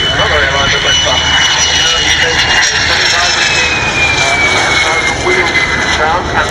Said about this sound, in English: I love the sound of the old turbo jets